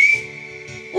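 A high whistle tone imitating a train whistle rings out over a song's instrumental backing, a sustained pitched note with a bright burst at the start and end.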